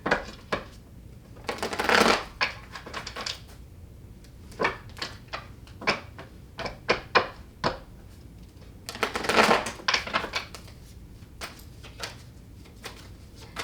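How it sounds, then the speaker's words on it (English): Tarot cards are shuffled and laid out in a row: bursts of riffling at two points, with crisp slaps and flicks as single cards drop onto a surface, close and quiet with no voices. "So now let's pull you up a row of tarot here"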